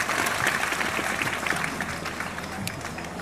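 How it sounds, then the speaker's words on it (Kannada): Audience applause at a public religious purana gathering at a Basaveshwara temple event in Karnataka, a steady dense wash of clapping held at an even level throughout, with faint voices mixed in. "ಒಂದು ಸಲ ಜೋರಾಗಿ ಚಪ್ಪಾಳೆ ಹಾಕಿ"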